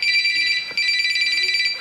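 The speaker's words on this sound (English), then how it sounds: "As soon as the phone rings" A telephone rings on stage during a hypnotist's show, giving a loud, continuous electronic trilling ring with a brief break before it resumes.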